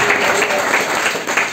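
Church audience at a Christmas youth gathering bursting into applause, a steady dense clatter of many hands filling the hall, loud and close, with no talk over it.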